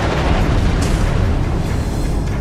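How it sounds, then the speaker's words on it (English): A depth charge explodes underwater against a submarine, a loud continuous deep rumble with roaring low boom that fills the whole stretch without letup. "The explosions are designed to rupture or crack the sub's hull."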